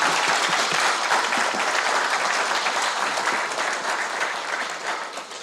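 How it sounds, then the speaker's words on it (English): An audience applauding a conference panel, dense sustained clapping from a sizable crowd that stays loud and fades slightly at the end. "You need to give them a round of applause"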